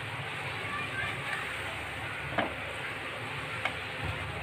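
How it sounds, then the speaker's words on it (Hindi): Dry fruits and vermicelli being stirred in hot sugar syrup over a low flame for an Eid sweet make a steady soft sizzle and bubbling, with a few faint spoon scrapes against the pan. "अब इस चाशनी में ड्राई फ्रूट्स को थोड़ी देर चलाएंगे"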